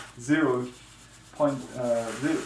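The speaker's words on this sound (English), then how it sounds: "The first step is to sand off the wax, or also make the prepare the surface with the sandpaper." A soapstone seal is sanded with number 0 fine sandpaper in two close, quiet bursts of rubbing strokes separated by a short pause.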